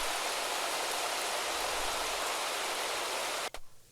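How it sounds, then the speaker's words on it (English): Rain falling outside a house, recorded as a natural atmosphere for a sample pack: a steady, even hiss of close rainfall that holds throughout and then abruptly cuts off near the end. "which is some rain I recorded outside of my house"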